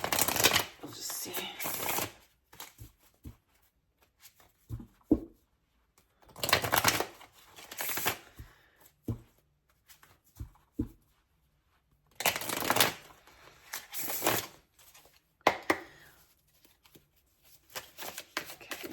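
A mixed deck of different cards being shuffled in several separate bursts of riffling and flicking, with short quiet pauses between them and faint talk in the background.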